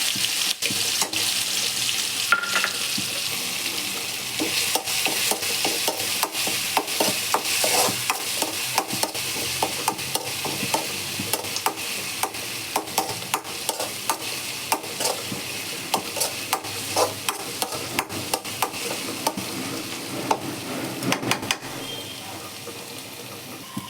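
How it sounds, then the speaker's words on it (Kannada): Ginger, garlic and green chilli paste fries in a pan with a steady sizzle, broken by frequent sharp scrapes and clicks of stirring, close up and without speech. "ಇದು ಚೆನ್ನಾಗಿ ಹಸಿ ವಾಸನೆ ಹೋಗೋ ಥರ ನಾನು ಹುರ್ಕೊಂಡಿದ್ದೀನಿ"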